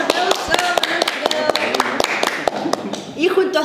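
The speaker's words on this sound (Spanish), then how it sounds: "estamos aquí junto a Alfredo Cáceres, un aplauso" A small audience at an illustration festival interview claps for the guest, sharp close claps in a quick irregular run, with talking taking over as the clapping trails off.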